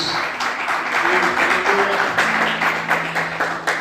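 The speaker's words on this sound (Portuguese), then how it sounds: "Vamos aplaudir Jesus bem forte, glórias a Deus." Congregation applauding in a church during a sermon, a dense steady wash of many hands clapping throughout, with faint voices and a low tone underneath.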